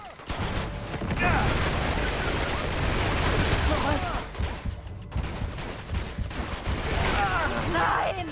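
Rapid gunfire and explosions from the video game Uncharted 2: Among Thieves keep up a dense, loud barrage across the whole stretch, with a voice partly buried beneath the shooting.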